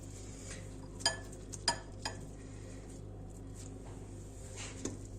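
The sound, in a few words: stirring eggplants in a pan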